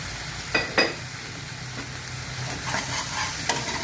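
Spices with chili powder and salt sizzle steadily in a pan, with a couple of sharp utensil knocks early on and lighter scraping stirs afterward, close and fairly loud.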